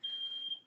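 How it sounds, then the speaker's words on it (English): A single steady high-pitched electronic alarm tone sounding continuously for under a second, then fading out, with no voices. "I apologize for the beeping"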